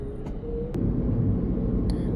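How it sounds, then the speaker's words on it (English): Small Japanese rental van driving, a steady low engine and road rumble from inside the cabin that swells slightly as it gets moving, with a couple of brief clicks. "The car is moving again."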